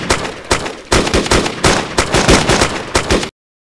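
Gunfire in Arma 2 DayZ, a rapid string of loud sharp shots in bursts with short gaps, close and alone before ending abruptly.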